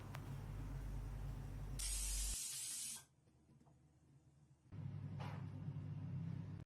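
A pressure cooker lets out a sharp, loud burst of hissing steam for about a second over a low background rumble, then falls quiet before the rumbling noise returns.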